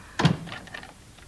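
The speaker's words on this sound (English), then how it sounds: "Let me open the door." A door is opened with a single short thunk followed by a brief light rattle, close by and on its own with no voices.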